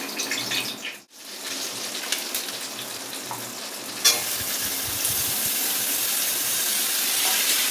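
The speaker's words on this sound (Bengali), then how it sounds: "তাই একটু কালো জিরা দিয়ে দিচ্ছি।" Nigella seeds (kalo jeera) dropped into hot oil in a home kitchen set off a sudden crackling sizzle, which then settles into a steady, close hiss after a brief quiet gap.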